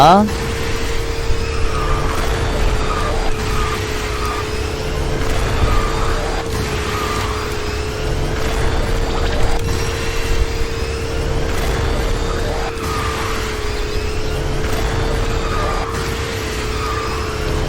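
Game kart engine in KartRider fitted with upgraded parts, a steady droning hum running throughout with repeated skid-like swells from drifting, constant and fairly loud with no voices over it.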